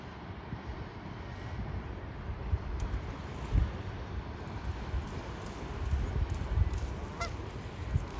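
Geese honk in scattered calls over a steady, rumbling wind-like background, heard from the Viking Polaris ship; the honks are distant and faint rather than close.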